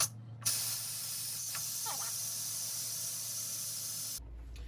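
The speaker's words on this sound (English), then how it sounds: "we are going to vent this so that it releases the steam right away" Steam blasts out of an Instant Pot pressure cooker during a hard release, a loud, steady close hiss that runs unbroken for about four seconds before cutting off abruptly.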